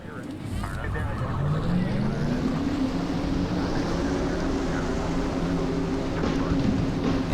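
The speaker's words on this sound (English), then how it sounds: "Drivers, start your engines!" Massed NASCAR Winston Cup stock car engines from NASCAR Racing 2003 at Las Vegas Motor Speedway, a dense loud roar whose pitch climbs and holds steady over several seconds, with an announcer's voice over the top.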